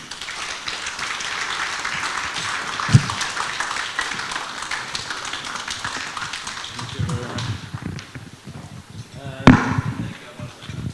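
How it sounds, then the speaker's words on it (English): An awards-night audience at a hotel applauds the ambassador, scattered clapping mixed with talk, a couple of sharp knocks standing out, fading into voices later. "can we give Ambassador another round of applause?"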